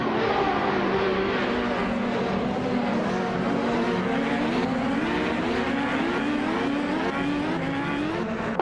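Several race cars in a racing video game scream past in a dense, continuous engine whine, pitches rising and shifting as they accelerate and jostle, loud and unbroken throughout.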